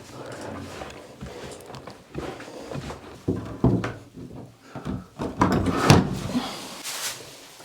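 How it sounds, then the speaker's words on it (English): A wooden door in an old coach house is shifted and set back in place, with repeated knocks, scrapes and thumps of wood building toward a louder clatter near the end, close by. "So I'll put the door back."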